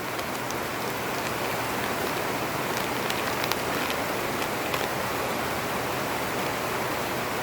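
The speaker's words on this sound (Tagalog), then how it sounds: "ulan." Steady rain, a dense continuous hiss with scattered drop patter, even and unbroken throughout with no voices.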